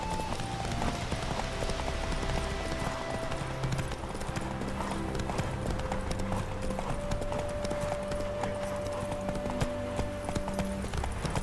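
A horse in The Witcher 3 video game clip-clops along in a steady, even rhythm of hoofbeats that runs throughout, set against a continuous game background with sustained tonal music.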